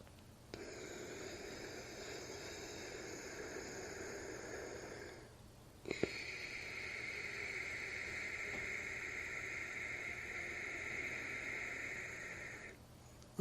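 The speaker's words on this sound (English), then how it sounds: "if I create a sound at the base of the throat, it's a little more, softer sound, more hissing kind of a sound." Soft, steady hissing friction of ujjayi breathing drawn at the base of the throat through the nose during pranayama practice, two long sustained breaths close by with a brief pause between them, no talking.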